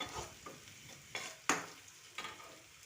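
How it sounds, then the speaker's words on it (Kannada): Finely chopped onion frying in oil in a kadai for a chicken liver masala, a quiet background sizzle punctuated by four or five distinct spatula scrapes, heard close with no talk. "ಇದನ್ನು ಹಸಿ ಸ್ಮೆಲ್ ಹೋಗೋ ತನಕ ಫ್ರೈ ಮಾಡ್ಕೋಬೇಕ್ರಿ."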